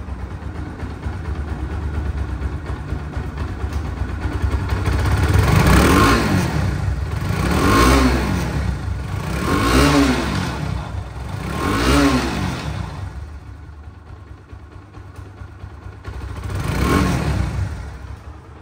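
A Bajaj Pulsar AS motorcycle engine, just self-started, revs up in four or five rising-and-falling bursts about two seconds apart, settling between them and cutting out briefly near the end. It is close and loud, with no talking.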